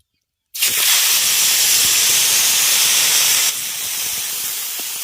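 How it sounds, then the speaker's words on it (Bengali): After a moment of silence, a loud sudden hiss erupts as drumstick flowers with salt and turmeric hit hot oil, holding steady, then easing slightly toward the end. "লবণ আর হলুদ দিয়ে ফুলগুলোকে প্রথমে ভেজে নিচ্ছেন"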